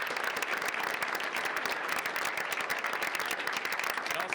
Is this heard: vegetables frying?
no